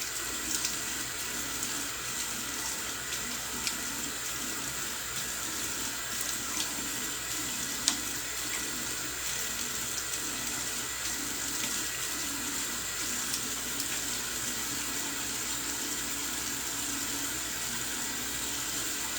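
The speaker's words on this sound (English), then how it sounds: "Let me just rinse off this alum and then put the splash on." Tap water runs steadily into a sink while an alum block is rinsed off during a wet shave, a constant quiet hiss with a couple of faint clicks and no voices.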